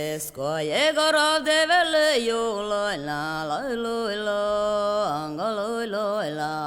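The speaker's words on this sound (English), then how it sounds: "Yoik can sound something like this." A solo voice sings a traditional Sami yoik, wordless, with rhythmic repeated phrases, pulsing pitch turns and sliding notes, close and clear.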